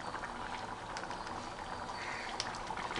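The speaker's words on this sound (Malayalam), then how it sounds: "നന്നായിട്ട് തിളച്ചു വന്നിട്ടുണ്ട്" Chickpea kadala curry with added hot water bubbling at a full boil in a pot, a dense continuous simmering burble with small popping bursts, close and steady, no talking.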